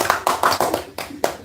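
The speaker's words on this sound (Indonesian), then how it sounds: "tepuk tangan untuk Ibu Eva" A small group claps for a woman at a disability-day panel discussion, a handful of sharp, separate claps in an uneven rhythm, close and fairly loud, with short gaps between the strikes.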